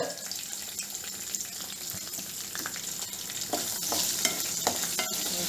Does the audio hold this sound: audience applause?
no